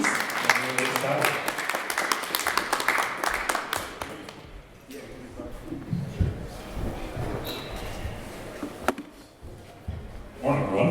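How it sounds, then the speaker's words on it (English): An audience at a Drupal conference in Toronto breaks into applause, a dense patter of clapping that fades out midway as a presenter starts speaking over the room. "Round of applause for these two guys, please."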